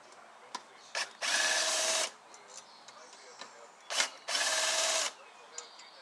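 A power tool loosens the sump cover bolts on a Kawasaki FJ180V engine in two loud, sustained whirring bursts of about a second each, with short clicks and taps between them.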